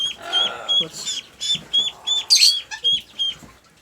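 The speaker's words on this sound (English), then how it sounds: "Now here's one of our wiggly little ducklings. He is a Dutch hookbill." A Dutch hookbill duckling peeps in rapid, high-pitched bursts, repeated rhythmically up close, with a rustle of handling in the background.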